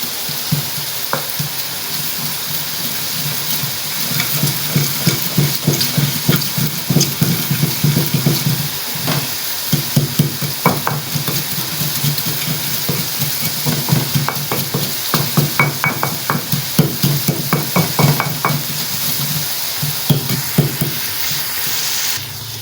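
Masala sizzling and frying in a pan for chana pulao while a spoon stirs it, with a steady loud sizzle and rhythmic scraping strokes repeating throughout, close and continuous.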